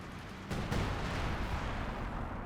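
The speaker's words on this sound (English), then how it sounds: "Artillery coming in." Artillery fire in Company of Heroes 2, a dense rumbling barrage that breaks in with a sharp blast about halfway through and a second boom shortly after, then continues as a steady low roar of distant impacts with no talk.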